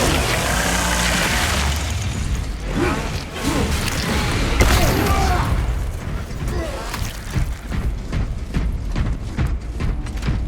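A frag grenade goes off amid a Tyranid battle in Warhammer 40K Space Marine 2, a loud booming blast partway through, buried in continuous gunfire, thuds and combat clatter with voices shouting over it.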